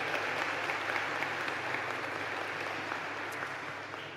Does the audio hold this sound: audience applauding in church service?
yes